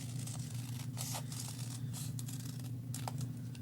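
Quiet snipping and crinkling of scissors cutting through paper, several short cuts in an irregular rhythm over a low steady hum.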